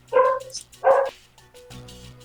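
Two loud, close dog barks in quick succession from the game Persona 3 FES, followed by steady low background game audio.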